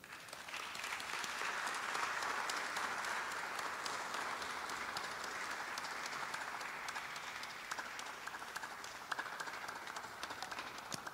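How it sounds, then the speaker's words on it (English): Following a lecture, an audience delivers a long, steady round of applause, a dense, even patter of many hands clapping that holds at a constant level for about eleven seconds, faint and somewhat distant, with no speech over it. "Round of applause."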